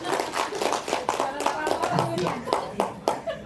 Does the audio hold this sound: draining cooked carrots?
no